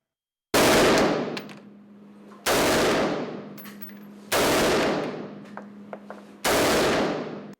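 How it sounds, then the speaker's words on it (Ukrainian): Four loud, sharp gunshot blasts at a shooting competition, spaced about two seconds apart, each with a long echoing decay, in an open outdoor setting with no talking. "Стріляли спочатку групами, а потім індивідуально, аби обрати найкращих."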